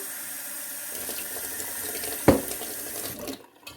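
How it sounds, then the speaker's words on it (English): Warm water pours steadily from a faucet or jug into sopaipilla dough in a kitchen. The stream hisses evenly for a few seconds and ends with a short splash before cutting off. "So now we're going to add our water in."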